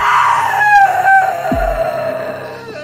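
A loud shriek in a horror story, a wavering high cry with a wailing, rooster-like quality that slides downward before a low thud, heard alone at close range.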